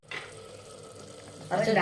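Water poured into a pan of frying mushroom curry, a steady close hiss of sizzling that swells louder near the end as more water hits the hot pan.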